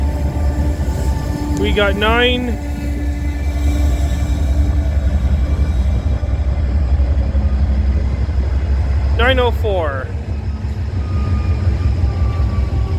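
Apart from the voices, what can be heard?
VIA Rail train 68 passing at night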